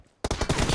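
Rapid gunfire in the video game PUBG Mobile, a burst of several loud close shots following a short quiet gap.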